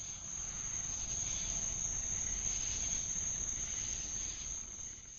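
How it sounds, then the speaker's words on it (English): Cicadas in a backyard give a steady, dense, high buzzing drone. It holds at an even, loud level for several seconds with no pauses and no talking. "I've been wanting a cicada sound effect for a while, and all of them sound super fake. So I made one by recording my yard"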